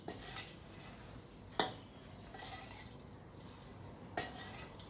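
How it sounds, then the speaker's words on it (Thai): Dried chilies being stir-roasted in a pan for chili paste, giving a steady dry scraping and rustling with a few sharp metallic clinks of a utensil against the pan. "เราคั่วเองให้เห็นเลยนะคะว่าเราคั่วเอง"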